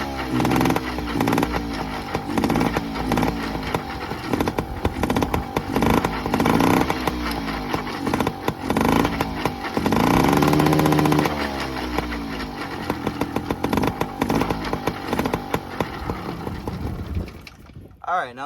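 A Yamaha PW50 dirt bike, restarted after sitting for 15 years, runs close by with a buzzy two-stroke drone that revs up and down, swelling around the middle before cutting off near the end.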